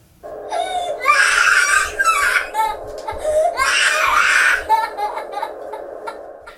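A two-year-old girl screams and cries loudly at bedtime in long, piercing, harmonic bursts. Two main wails are broken by shorter sobbing cries, all close and with no talk.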